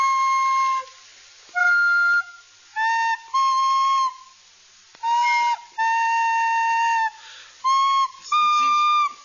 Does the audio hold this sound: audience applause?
no